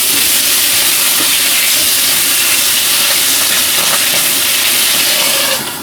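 Asparagus sizzling and hissing in a hot pan, a steady dense broadband hiss that holds evenly for several seconds at close range, with no talking.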